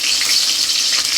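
Dried red chillies sizzle in hot oil in a wok, a steady, loud, close crackling hiss with no talk.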